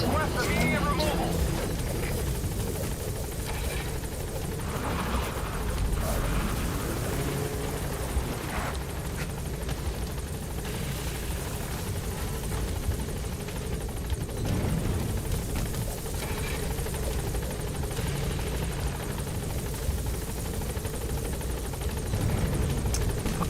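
A helicopter hovers over a landing zone in Metal Gear Solid V, its rotor drone loud and continuous throughout, with radio-style voices speaking over it.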